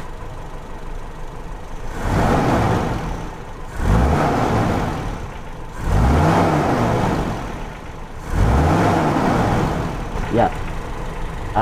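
Carbureted Toyota Kijang engine running during an emission-control vacuum test, a steady mid-pitched hum that rises in four repeated revving surges, with someone talking briefly over it.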